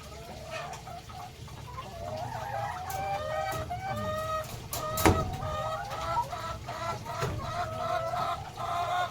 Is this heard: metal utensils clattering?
no